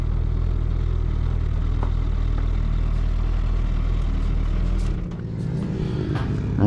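A Suzuki Hayabusa motorcycle runs on a race track with a steady loud engine drone that drops off sharply near the end, leaving quieter, more distant engine noise.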